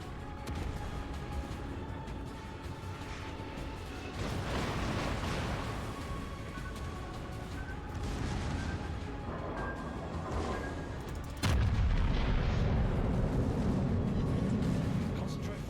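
Heavy naval guns boom from warships in the World of Warships game, a few loud broadband blasts spread across a steady rumble of battle noise, with in-game voice lines spoken over them.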